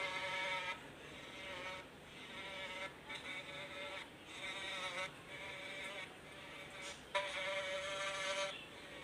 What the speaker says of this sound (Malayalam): ജസ്റ്റ് ഇവിടെ ഈച്ചയുടെ ശബ്ദമൊക്കെ ആയിട്ട് നമുക്ക് പ്രാങ്ക് ചെയ്യാൻ പറ്റും